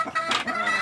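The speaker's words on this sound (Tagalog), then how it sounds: "Ang daming manok sa ilalim." Several chickens clucking close by in a short burst, overlapping calls from a flock gathered underneath something, no talk.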